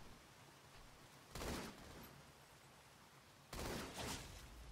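Two short bursts of pistol fire in a Halo multiplayer match on Xbox One, each a sharp cluster of shots rising out of a steady low game background, separated by a couple of seconds.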